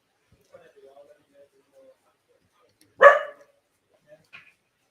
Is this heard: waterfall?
no